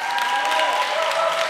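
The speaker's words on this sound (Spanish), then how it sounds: "la gente aplaude ya directamente" Studio audience applauding at a Spanish TV show, steady dense clapping throughout, fairly loud and continuous with no voices over it.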